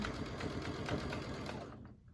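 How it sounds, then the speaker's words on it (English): Sewing machine stitching down binding on a quilt, a fast steady mechanical chatter of the needle close by, stopping near the end, no talking. "hold it in place while I stitch it"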